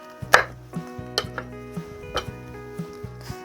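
Knife chopping through cucumbers on a cutting board, a series of crisp close thunks in a steady, slightly uneven rhythm, about eight cuts, with no voices.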